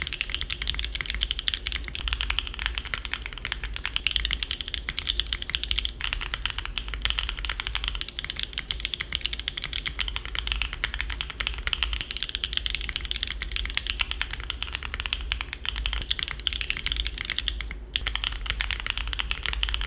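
Steady, fast typing on a Mode Tempo mechanical keyboard, comparing its flexiest and stiffest configurations, with a continuous run of close, crisp key clacks and thocks and no talking.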